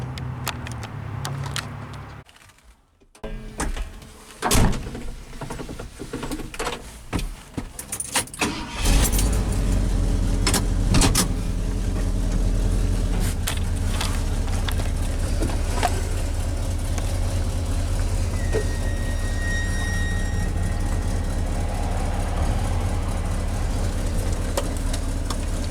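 A Ford F-series pickup truck, checked after a temperature gauge fix, has keys jangle before its engine cranks and catches. It then settles into a steady, close idle that runs on alone.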